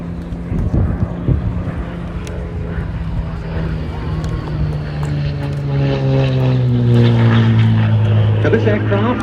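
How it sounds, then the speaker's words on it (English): An Extreme Air XA42 aerobatic propeller plane at an airshow drones loudly through multiple snap rolls, its engine note rising and sliding in pitch, while a commentator talks over it. "The smoke has gone on and multiple snap rolls on entry for the Extreme Air"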